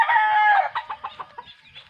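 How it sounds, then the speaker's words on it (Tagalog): Native laying hens cluck close by: a drawn-out squawking call, then a run of short, separate clucks that fade off, with no voices present. "To feed the chicken."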